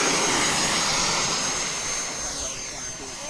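Freewing F-16C Aggressor 90mm EDF model jet flying at Fritz Field, a loud continuous ducted-fan roar and whine that eases slightly as it passes, with talk faintly present.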